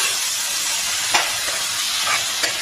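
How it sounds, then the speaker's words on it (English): Minced beef cooking in a pan with onions, garlic and tomato, a loud continuous sizzling hiss with a few faint stirring clicks, close and without voices. "I cook this beef and I mix well to our ingredients"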